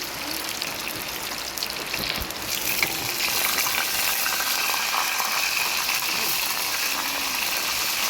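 Mustard seeds and dried red chillies fry in hot oil, a close, steady crackling sizzle that grows louder and denser partway through as the seeds pop.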